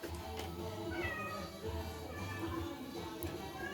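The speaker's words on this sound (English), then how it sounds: "Mr. Jojo, can you please say why you're meowing so much?" A cat meows repeatedly at close range, its drawn-out, insistent cries recurring in a steady series over faint background noise.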